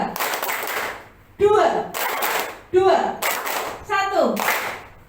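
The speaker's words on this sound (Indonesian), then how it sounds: "1 kali tepuk tangan." An audience at a school gathering claps hands together in sharp, loud bursts on a counted cue, each burst followed by scattered clapping, while a voice calls out a number between them.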